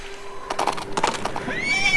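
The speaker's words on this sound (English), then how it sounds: "Hey, my horse is here." A horse whinnies in the Princess Peach Showtime video game, a short shrill rising neigh near the end, preceded by brief clattering game sounds over a soft musical background.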